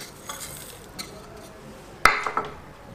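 A spoon stirs carrot halwa with sugar, khoya and dry nuts in a pan: soft scrapes at first, then a sharp metallic clink and a few quieter knocks near the end.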